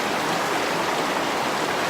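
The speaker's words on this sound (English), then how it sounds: "if you can find a spring coming right out of the rocks like that" Spring water flowing straight out of rocks outdoors makes a dense, even rushing hiss close by, a constant broadband wash of water with no pauses and no voices.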